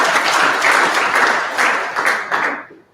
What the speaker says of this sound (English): you all can clap for them while they're walking